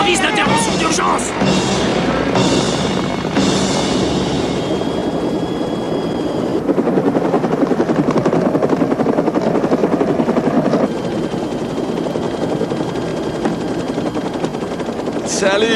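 Helicopter rotor thudding loudly and steadily throughout a tense action scene, with shouted voices and commotion over the continuous beating engine roar.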